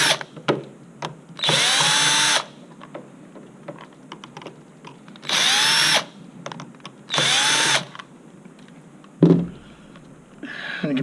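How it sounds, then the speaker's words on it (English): A power drill unscrews the four screws on a motor controller cover in short whirring bursts of a second or so each, separated by quiet handling clicks and taps, up close with no talking. "you'll see there's 4 more screws on the cover here that need to be undone"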